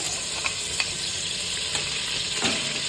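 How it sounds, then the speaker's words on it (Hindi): Ginger garlic paste fries in hot oil with a constant, fairly soft sizzle. A few light clicks and spatters come and go, and no voices are heard. "जैसे ही ऑयल हॉट होगा हम इसमें लहसुन अदरक का पेस्ट डालेंगे।"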